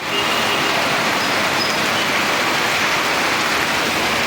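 Heavy monsoon rain pouring down in Jaffna, a dense, loud, unbroken wash of rain hiss that fills the whole stretch, close and steady, with no voices.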